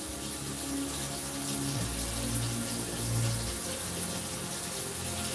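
Silver paint being poured into a screen paint mix gives a steady, full liquid pour that runs continuously, with a low gurgling swell partway through and no voices.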